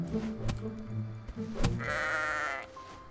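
A sheep bleats in the medieval survival game Reign of Kings, a drawn-out wavering bleat following a few soft thuds and scuffles, loud and close with no talk over it.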